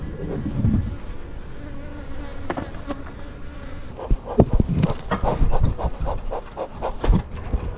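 A rescued bee colony buzzes inside an opened house roof at night, a steady insect drone throughout with scattered knocks and handling noises growing busier in the second half.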